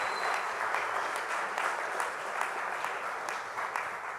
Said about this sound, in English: That should give you a round of applause.